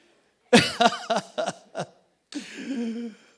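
Several sharp coughs from the congregation break out in a church during a sermon, a quick cluster of harsh bursts followed by a longer, rougher rasp, fairly close and with no talking over them.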